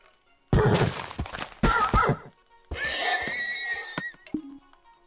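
Horses in the Minecraft video game whinny loudly and close, in several bursts with hard thumping hits between them and a long wavering neigh near the end.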